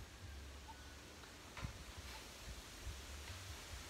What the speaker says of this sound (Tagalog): Malakas ang hangin mga kamoks.